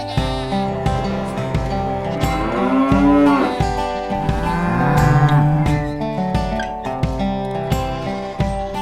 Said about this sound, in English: These are cows.